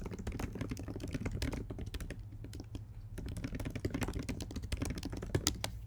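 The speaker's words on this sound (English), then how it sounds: "And then I just type in this box." Steady typing on a computer keyboard in a classroom setting, a close, continuous run of quick key clicks with short pauses, no talking over it.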